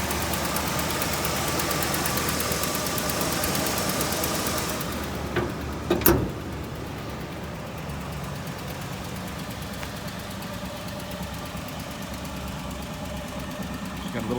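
A 1966 Chevrolet Caprice engine idles steadily with a slight tick, a low continuous rumble interrupted by a brief louder knock or clunk partway through.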